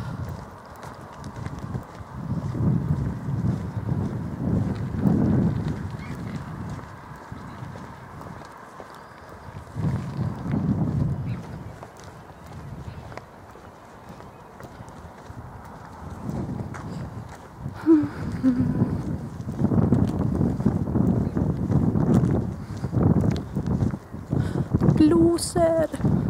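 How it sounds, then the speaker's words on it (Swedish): Gusty wind outdoors after rain buffets the microphone in low rumbling surges that rise and fall, while a person talks now and then. "Det blåser, jag tror det har regnat också."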